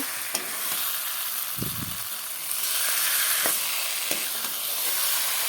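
Vegetables, ridge gourd and potato, are stir-fried with spices in a pan for a fish curry, making a soft continuous sizzle and hiss broken by a few scraping stirs and clatters.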